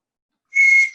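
A person gives a single short, clear, high-pitched whistle imitating the alarm call of wild dogs on encountering a tiger, lasting about half a second and heard alone against silence.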